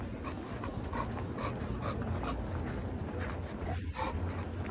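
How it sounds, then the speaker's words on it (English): A small dog pants and yips faintly in the distance during a structured leash walk, short bursts of barky sound under steady outdoor wind and footstep noise. "that's a little barky dog"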